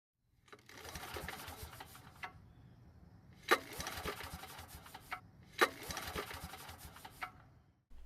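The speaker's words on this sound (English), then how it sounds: "see what happens when we pull on the rope" Two quick pulls on the starter rope of a Powermate generator that won't start, each a sharp snap followed by a brief whirring rattle, close and fairly quiet, with no catch from the engine.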